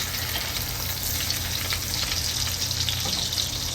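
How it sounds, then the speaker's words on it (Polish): Beef shank for ossobuco searing in a hot pan, a dense, even hiss of frying fat held steady for several seconds with no talk. "Teraz zaczniemy obsmażać"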